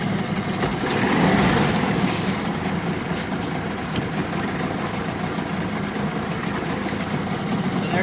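An engine on the Zip build idles steadily in reverse gear, a continuous, even low-pitched hum that holds close and constant throughout with no revving.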